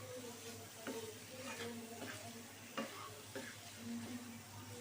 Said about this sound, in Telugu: ఇలాగ ఫ్రై చేసుకుంటే బాగుంటుంది ఫ్రై